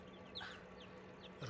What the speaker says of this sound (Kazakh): Міне балапандар